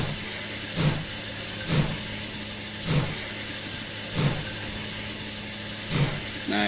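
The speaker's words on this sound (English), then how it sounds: "Bit of braking on" Railway train on the birch forest line running under light braking, with a steady mechanical hum and tonal drone broken by regular rhythmic thumps about once a second.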